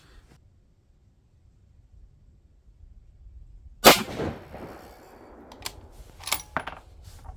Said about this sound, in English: Against my better judgment, I'm going to go ahead and shoot this next one.